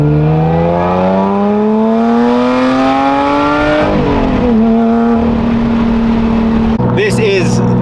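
A straight-piped Lotus Evora 400 engine revs up with a steadily climbing pitch, then drops back and holds a rough, throaty idle, with a brief sharp burst near the end.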